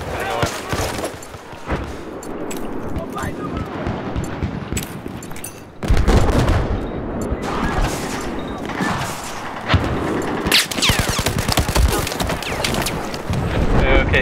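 Gunfire from the Battlefield 4 video game on the Zavod 311 map, steady bursts of automatic shots and booms running throughout, with a heavier close volley surging about halfway through.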